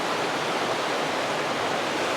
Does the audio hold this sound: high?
yes